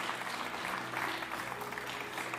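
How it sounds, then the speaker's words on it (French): A church congregation applauding the young people after an Easter service message, a soft, continuous patter of clapping heard from a distance throughout. "On peut les applaudir."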